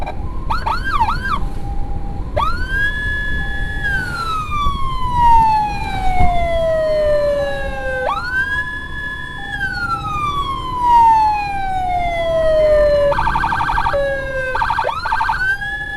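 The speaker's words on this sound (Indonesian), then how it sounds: "Wah, kayaknya ada ambulan juga tuh di atas." A loud wailing ambulance siren sweeps up and down repeatedly, with a rapid yelping burst near the end, over steady traffic rumble in a traffic jam.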